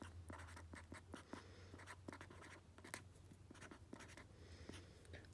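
Pen or marker writing a maths equation on a surface, with quick repeated scratchy strokes and taps in an irregular rhythm, close and faint over a low steady hum.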